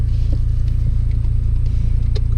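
Renault Mégane 3 RS with a six-speed gearbox heard from the cabin on a test drive, a loud steady low engine drone with a pulsing rumble and no talking.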